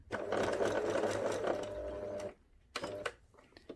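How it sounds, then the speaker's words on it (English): A sewing machine stitches around the ear of a fabric memory bear, running steadily and close for about two seconds, then stopping before a brief second burst of stitching. "put the presser foot back down and continue to sew"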